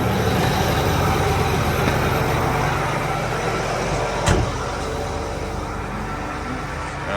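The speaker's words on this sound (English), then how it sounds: "I'll go in and start this truck so the air will start to build up." Truck on a South Texas corn harvest, half full of corn, running to build air pressure: a loud, steady engine rumble and hiss that continues throughout, with one brief sharp knock partway through.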